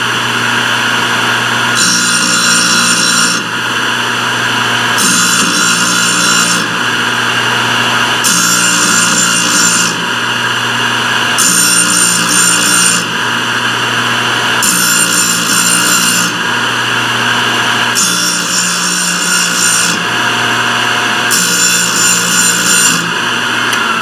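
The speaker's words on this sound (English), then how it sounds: "how you want even pressure going into that grinding wheel as well, so that way you get a consistent grind when you're face grinding" Grinding wheel face grinding the teeth of a carbide saw blade on a Thorvie AV-40 sharpener, loud steady motor whine with regular bright grinding passes about every two seconds.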